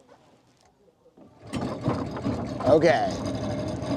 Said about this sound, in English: He's starting up the engine.